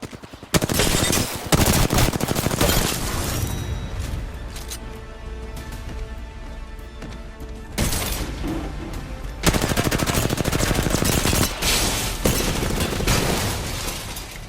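Rapid automatic gunfire from Apex Legends, loud and close, comes in dense sustained bursts, drops to quieter crackling with game effects in the middle, then surges back in heavy full-auto volleys.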